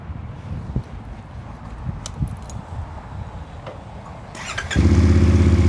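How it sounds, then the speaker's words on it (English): A few quiet clicks and handling noises, then a CFMOTO 450MT (Ibex 450) motorcycle engine fires up and settles into a loud, steady idle rumble. "start up the engine"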